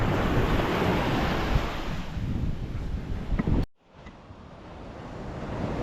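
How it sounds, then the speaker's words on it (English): Bigger ocean waves break near a boat off the north east of Tasmania, a steady loud roar of surf with wind buffeting the microphone, cut by a sudden drop before the wash builds again. "A few bigger waves breaking here."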